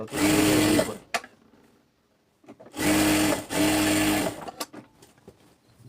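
A sewing machine stitches a salwar seam in two loud bursts of rapid, steady whirring, separated by a short pause with faint handling clicks, and then a few brief stops and starts.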